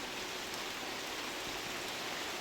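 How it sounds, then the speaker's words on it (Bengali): Dense, continuous hiss of heavy rain pouring down, even and unbroken throughout. "তো বৃষ্টি আরও জোরে এসছে"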